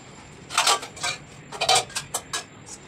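Freshly washed steel dishes and utensils clatter and clink as they are stacked away one after another, a string of bright metallic knocks at close range.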